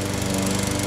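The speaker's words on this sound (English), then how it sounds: "she's already mowing grass over there" Lawn mower cutting grass at a backhoe bottle-digging site, a loud steady engine drone with a rough pulsing rattle, close and continuous.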